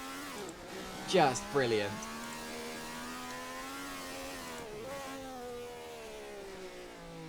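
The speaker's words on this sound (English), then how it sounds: "I'm just trying to research actually what type of engine this Honda had, because just listen to that as he kicks it out" A 1967 Honda Formula One car in a sim racing game, its engine holding a steady high-pitched howl with a brief rising rev burst early on, under a commentator's voice.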